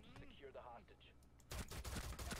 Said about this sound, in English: he's shooting the hostage